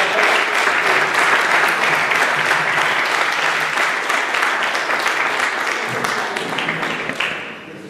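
An audience at a history conference in the Campo de Gibraltar bursts into dense, sustained applause that holds loud and steady for several seconds, then fades near the end.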